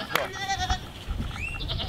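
A flock of sheep being herded together gives a couple of short, close bleats in quick succession over faint outdoor background noise.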